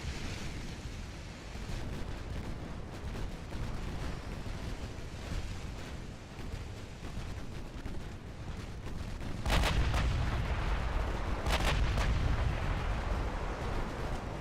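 Naval gunfire in Ultimate Admiral Dreadnoughts, with heavy booming shots over a constant rumbling sea-and-wind background; two sharper, louder blasts stand out late in the sequence, with no talking.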